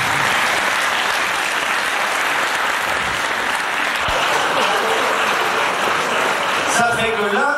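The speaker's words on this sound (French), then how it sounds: "on peut les applaudir, bien sûr." An audience at the Bogue d'Or event in Redon applauds loudly and continuously, a dense wash of clapping that holds for several seconds, with voices faintly mixed in near the end.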